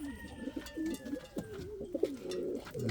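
Indian fantail pigeons coo in low, throaty, repeated bursts close by in a breeding loft, with a faint steady tone running underneath.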